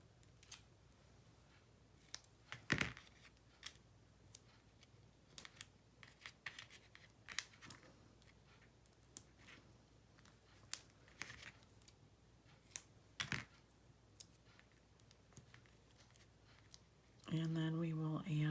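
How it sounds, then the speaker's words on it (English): Repeated short snips of scissors cutting foam dimensional adhesives in half at a papercraft table, quiet crisp clicks spaced irregularly, with a voice talking briefly at the end. "I'm going to put some dimensionals on there too, but I'm just going to cut them in half."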